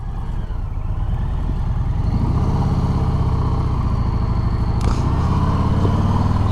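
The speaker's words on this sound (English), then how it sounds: "If you like the sound of Harley Davidson, well, this has got it" A loud 2019 Harley-Davidson Sport Glide 107 engine idles and rumbles steadily with a deep, throbbing low-end, the revs rising slightly partway through.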